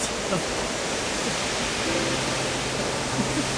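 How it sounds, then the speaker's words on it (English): Multnomah Falls in Oregon roars as a steady, even wash of falling water, loud and unbroken throughout, with faint voices nearby. "what a waterfall we're looking at right now"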